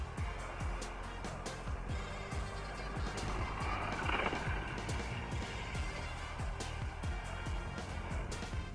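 A Hot Wheels McLaren P1 die-cast car races down a plastic track, rattling and clicking quickly over the joints with a faint whir, set against a dense, steady background.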